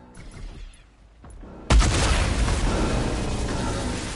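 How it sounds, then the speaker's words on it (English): A sudden, loud booming explosion in Fortnite erupts after quieter game sounds and rolls on as a dense, sustained rumble. "I didn't hear you because there's a large explosion."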